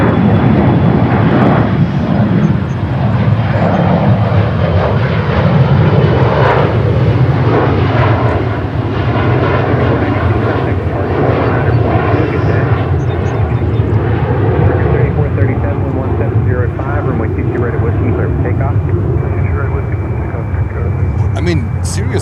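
An airliner lands on runway 22 left at Newark airport, a loud continuous roar of aircraft engines that fills the whole stretch, with radio voices and commentary talking over it.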